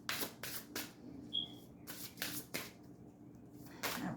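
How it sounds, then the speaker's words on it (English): Someone shuffles a deck of Celtic tarot cards close by. It comes as a run of short riffling bursts in an uneven rhythm, with quiet pauses in between and nobody talking. "So let me give these a shuffle."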